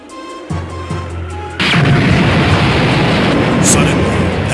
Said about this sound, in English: Suddenly, an explosion rang out from the heart of the city.